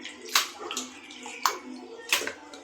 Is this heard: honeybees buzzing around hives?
no